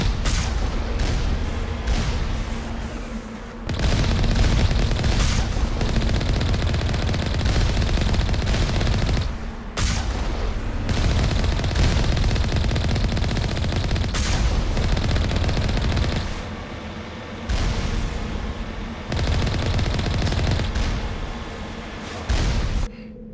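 Heavy turrets firing in the Mass Effect video game, loud sustained bursts of rapid gunfire and booming blasts that carry on almost without pause, broken by a few short gaps.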